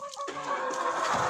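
A Pushkin breed rooster crowing close by, a loud drawn-out call rising over faint farmyard clucking.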